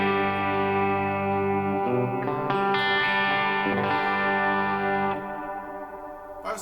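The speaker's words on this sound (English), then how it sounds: "And then I went into the dynamic reverb, the dynamic hall," Sustained electric guitar chords through a Helix Stadium XL dynamic hall reverb set to medium, ringing with long, shimmering trails, played loud and alone, fading at the end.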